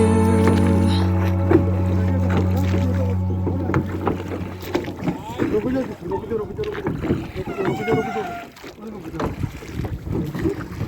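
A boat's motor drones steadily while a first-time learner steers it, then fades under gusty wind noise and several voices talking over the ride.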